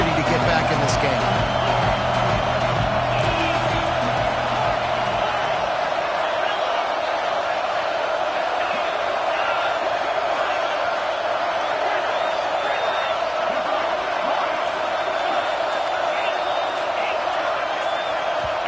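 A sustained roar from an Auburn football crowd during a third down, dense and loud throughout, with a commentator speaking over it.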